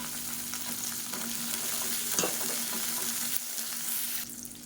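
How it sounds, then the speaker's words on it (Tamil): Small onions and garlic sauté in a pan, giving a steady close sizzle and hiss throughout with occasional stirring scrapes and no talk. "இப்போ வெங்காயம் பூண்டு ஓரளவுக்கு நல்லா வதங்கிடுச்சு பாருங்கள்"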